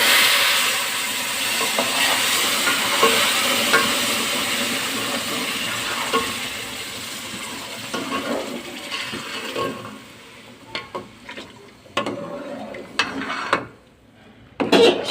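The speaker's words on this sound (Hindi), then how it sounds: "सूजी की भुनाई हो चुकी है और अब मैं इसमें डाल रही हूँ शीरा।" Sugar syrup is poured into roasted semolina for halwa, hissing and sizzling loudly and steadily at first. It then breaks into scattered bubbling and stirring sounds, close by with no talking.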